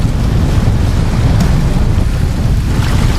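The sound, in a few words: wind and waves in a storm at sea on a yacht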